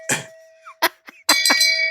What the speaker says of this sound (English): you can find me here holding my shame bell